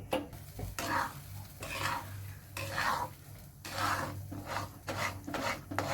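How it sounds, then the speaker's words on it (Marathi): Flour batter for maswadi being stirred in a pan over high heat, with repeated rhythmic scraping and rubbing strokes of a spoon against the pan, moderately loud and steady, without talk. "पिठाच्या गुठळ्या होऊन द्यायच्या नाही सारखं असं मिक्स करीत राहायचं"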